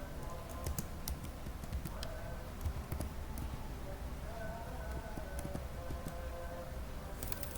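Keys clatter on a computer keyboard as a command is typed into a Linux terminal during a lab exercise. The keystrokes are quick, close and irregular, with a faint hum underneath.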